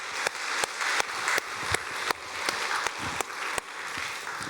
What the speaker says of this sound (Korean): 옆에 분 바라보며 힘차게 박수하도록 하겠습니다